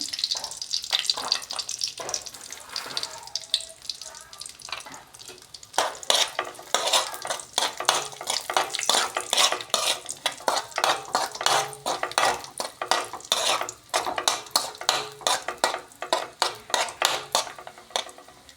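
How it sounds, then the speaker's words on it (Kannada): Cashews and other dry fruits frying in hot ghee in a pan while making kesari bath, a steady crackling sizzle with frequent metallic spoon scrapes and stirring clinks, louder and busier after the first few seconds. "ತುಪ್ಪನ ಹೀಟ್ ಮಾಡಿಕೊಂಡು ಅದಕ್ಕೆ ಡ್ರೈ ಫ್ರೂಟ್ಸ್ನ ಹಾಕ್ಕೊತಾ ಇದ್ದೀನಿ"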